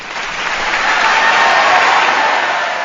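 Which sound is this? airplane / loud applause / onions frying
loud applause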